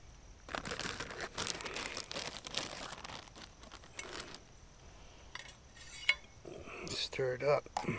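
Coffee being stirred in a cup at an overnight camp in Homochitto National Forest, southwest Mississippi: scraping, crinkling and clinking close by, with a sharper clink near the end and some quiet talk.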